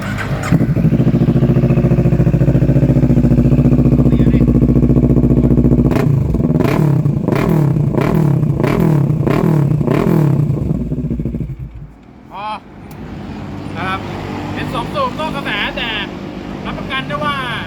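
A 2018 Kawasaki Ninja 650 motorcycle engine idles loudly close by, then revs in a rapid series of sharp throttle blips before cutting off, with someone talking over the mechanical clatter afterward.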